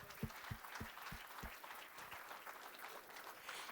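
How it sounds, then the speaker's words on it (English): Audience applause at a conference, a crowd clapping steadily with a few loud close claps standing out near the start, moderately distant and even throughout. "let's have a round of applause for that"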